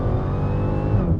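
A Dodge Challenger Demon 170 V8 running in eco mode, heard from inside the car as a loud, steady, deep engine drone with a rich harmonic rumble and no talking.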